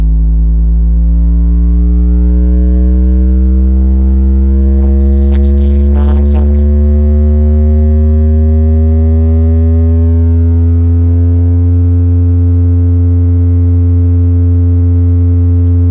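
Several steady electronic sine tones sound together, overlapping and slowly drifting in pitch against each other, loud and continuous with a brief noisy burst midway.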